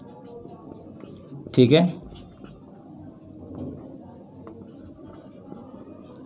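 A pen scratches out a Class 10 maths solution on paper in one brief burst of writing, with someone speaking over it.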